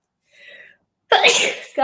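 A single loud, close sneeze bursts out after a brief faint breathy sound, with a short vocal trail right after.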